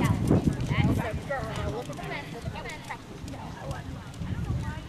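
A reluctant pony being ridden toward jumps over fences makes thudding hoofbeats, loudest in a quick flurry at the start and again near the end, mixed with overlapping voices and outdoor noise.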